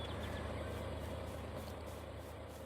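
A truck engine idles in the Farming Simulator 22 video game, a steady low rumbling drone that holds at an even level throughout, with no talking.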